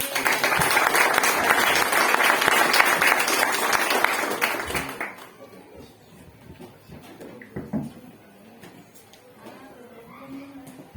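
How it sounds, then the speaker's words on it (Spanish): Church congregation applauding the pastor: dense, loud clapping for about five seconds, then fading into quieter room sounds with scattered voices. "Un aplauso para el pastor de cariño."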